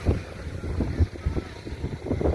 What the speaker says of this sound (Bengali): হাওয়াটা দিচ্ছে বলে এখানে একটু মজা আছে